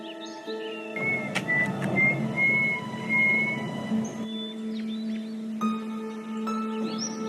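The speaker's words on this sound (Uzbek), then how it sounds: "Sen hushtak chaldingmi hozir?" A high wavering whistle rises and falls for a few seconds over steady droning tones, with faint chirps in the background.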